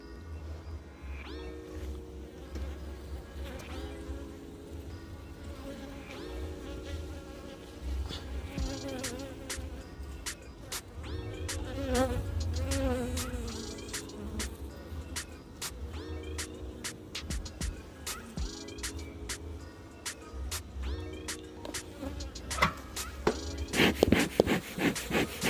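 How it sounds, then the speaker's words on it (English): Honey bees hum around the hives on a Jamaican bee farm, a steady close buzzing with scattered clicks and knocks over it. "A lot of young bees here to hatch out,"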